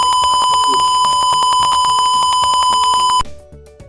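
An Arduino smart home buzzer beeps in a rapid, continuous, evenly spaced series of loud electronic tones, then cuts off abruptly near the end.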